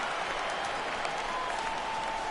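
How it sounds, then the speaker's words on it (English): A baseball stadium crowd at a 2018 MLB game reacts to a fly ball with a continuous wash of cheering, oohing and clapping, loud and dense throughout with no clear break. "This crowd oohs and ahs every time this guy hits a fly ball"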